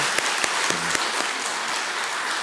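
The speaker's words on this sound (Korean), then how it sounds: "우리 박수로 환영하시고요." A church congregation applauds at a Sunday service, a steady spread of clapping with a few sharp, louder claps near the front early on.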